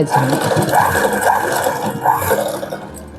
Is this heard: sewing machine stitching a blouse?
yes